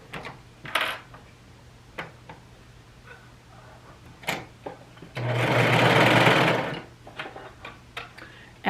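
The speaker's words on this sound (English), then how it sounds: "It's the Brother 655D. It's just a entry-level sewing machine." A Brother 655D entry-level sewing machine runs a seam in one steady, close burst of about a second and a half, with light clicks and handling taps before and after.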